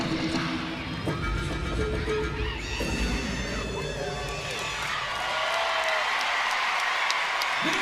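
A large arena crowd at a college gymnastics meet claps and cheers loudly throughout, a steady roar of applause with commentators talking over it.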